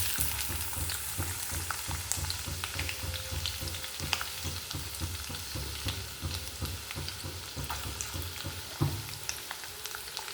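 Ginger, garlic and green chillies fry in hot oil for a chilli chicken dish, giving a dense, steady sizzle with a regular scraping rhythm of stirring throughout, close by and without talking.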